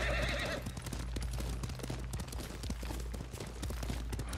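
Horses gallop in Ghost of Tsushima with steady clip-clop hoofbeats, a loud whinny near the start, and a constant low rumble of riding beneath the hooves.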